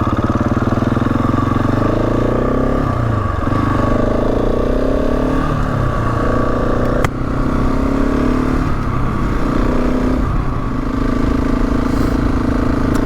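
A motorcycle rides through the Yorkshire Dales, its engine and exhaust droning loudly and steadily at close range, with rises and falls in pitch as the rider shifts and accelerates and one brief sharp click partway through.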